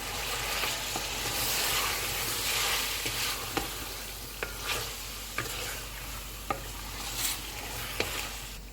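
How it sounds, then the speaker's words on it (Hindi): Tomatoes, lemon juice and spices frying in a pan, a steady close sizzle with several sharp spoon clicks and scrapes as the mixture is stirred. "सात मिनट के बाद टमाटर डालेंगे, नींबू का रस, सारे मसाले डालेंगे। इनको 5 मिनट तक भूनेंगे।"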